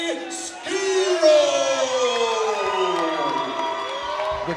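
Crowd at a Chosen Few Fighting Championship MMA event cheering and whooping loudly for fighter Dante Schiro, a sustained roar of yells and cheers after his introduction, swelling early and holding steady.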